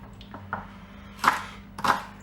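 Spring onions being chopped with a knife on a board, a few sharp separate knocks spaced about half a second apart, close and fairly quiet, with low kitchen hum underneath.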